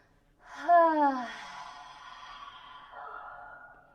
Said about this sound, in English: Inhale to your nose. Whenever you exhale, inhale and exhale.